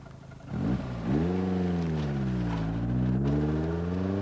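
Lotus sports car with HC engine accelerating hard, engine note climbing through a gear change, loud and close, with no talk.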